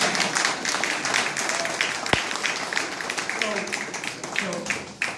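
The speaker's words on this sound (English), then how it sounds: "can we get a round of applause for that?" An audience applauds at a signing ceremony, a dense, steady wash of clapping filling the whole stretch, with a sharp single tap partway through and some crowd voices mixed in.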